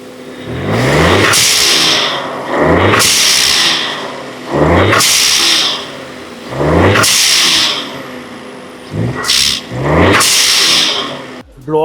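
Volkswagen Polo GT TSI fitted with an aftermarket blow-off valve and air intake, revved repeatedly: five rising engine pulls, each cut off by a sharp loud hiss of released air, close and strong.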